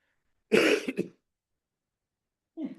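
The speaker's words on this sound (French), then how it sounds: "Je dis ça parce qu'il faut que je tousse." One person coughs and clears their throat in a short burst, then after a pause gives a second, softer throat-clear.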